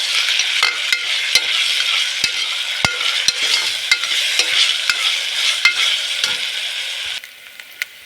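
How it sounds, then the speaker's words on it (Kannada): Ginger garlic paste frying with softened onions in a pan gives a steady, close sizzle, broken by irregular spatula scrapes and knocks, until the sound drops off sharply near the end. "ಶುಂಠಿ ಬೆಳ್ಳುಳ್ಳಿ ಪೇಸ್ಟ್ ಹಸಿ ಸ್ಮೆಲ್ ಹೋಗೋವರೆಗೂ ಫ್ರೈ ಮಾಡ್ಕೊಳ್ಬೇಕು."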